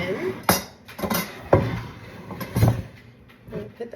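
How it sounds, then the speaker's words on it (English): An old Pampered Chef sheet pan being handled, with several hollow metallic clanks and scrapes as it is moved and set down, close and uneven against a quiet background. "I'm gonna put that sheet pan here."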